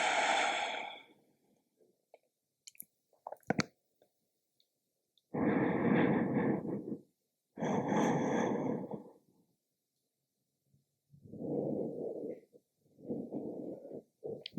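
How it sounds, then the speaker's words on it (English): Slow, deep yoga breathing into the ribs during a somatic slow flow, with several long, close, soft breaths separated by quiet pauses. "Breathing into the ribs."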